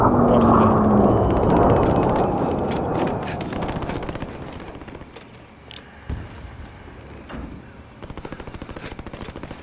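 Rapid bursts of gunfire in the video game Warzone, dense and loud at first, then thinning into scattered, sharper distant shots and short volleys, with no one talking.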